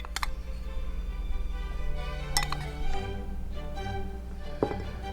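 Tablespoon tapping a glass while adding Living Tree cacao powder for a banana almond butter smoothie, a few light, bright clinks spaced over a few seconds against a steady low hum.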